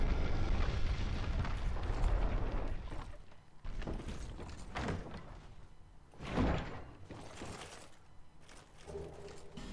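A hidden wall in Dark Souls 2 grinds open with a heavy, rumbling stone scrape that swells, dips and returns in loud surges, ending in a deep thud.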